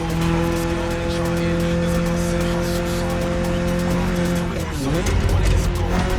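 A 1982 BMW E30 driving in the video game The Crew Motorfest, a steady engine drone with a brief tyre squeal and shift near the end, under a narrator's voice.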